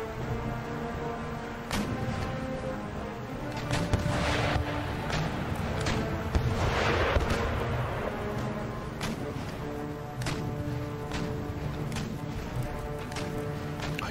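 Ship cannons boom in repeated broadside shots during a naval battle against a war galleon in Empire: Total War, irregular heavy thuds over a constant rumble of battle, with a voice talking over them.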